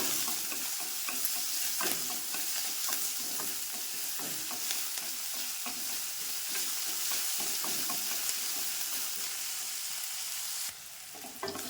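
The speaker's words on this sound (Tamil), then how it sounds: "கருவேப்பிலை கொத்தமல்லி நல்லா வதக்கணும்" Onion, green chilli, ginger, curry leaves and coriander sautéing in a pan, with a steady close sizzle and frequent spatula stirring scrapes, no talking.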